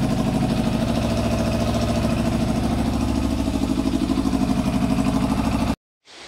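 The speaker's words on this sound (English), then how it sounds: "It's a running engine" A Yamaha Fazer 600 motorcycle engine runs close and loud with a rapid, throbbing idle pulse that stays steady and then cuts off abruptly near the end.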